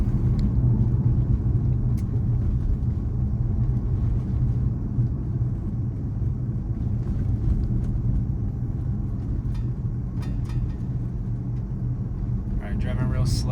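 A Tesla running FSD V12 creeps slowly along a narrow two-car-width road with no lane markings, its steady low cabin rumble and road noise continuous throughout.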